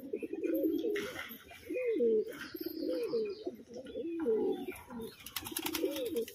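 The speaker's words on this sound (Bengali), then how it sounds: "এই একটা পায়রা আছে এইখানে খাবার খাচ্ছে।" Domestic pigeons cooing repeatedly while feeding, close and clear rolling coos in a steady rhythm, with faint chirps and light background movement, no speech.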